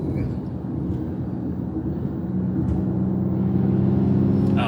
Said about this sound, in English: You want to turn on the propulsion sound and see what that does?